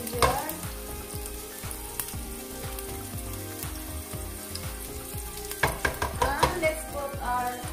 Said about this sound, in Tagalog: So, igisahin natin ang ginger.